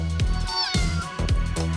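A domestic cat meows three times in quick succession, each call close and clear with a rising-falling tone, spaced evenly and heard on its own without speech.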